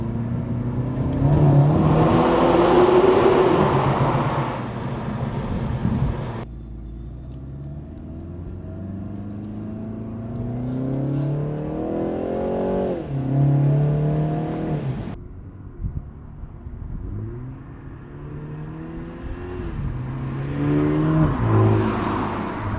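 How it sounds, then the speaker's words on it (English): A BMW G20 330i fitted with a VRSF downpipe revs in repeated loud bursts, its exhaust note rising and falling sharply between idle pauses, close and strong throughout. "reviewing the VRSF downpipe, showing you guys the sound and trying to demonstrate that for you guys"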